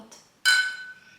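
Wine glasses of Sauvignon Blanc meet in a toast with one bright, close clink that rings on clearly and fades, after a softer tap just before.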